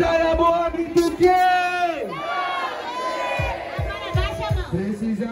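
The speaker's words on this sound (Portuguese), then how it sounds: "É só pra gritar." Crowd at a rap battle event shouting and cheering loudly together, a sustained mass of raised voices with whoops and rising yells, close and dense throughout.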